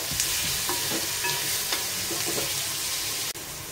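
Tomatoes being sautéed in a pan for prawn masala, a steady close sizzle with soft scraping stirs and a sharp clink near the end.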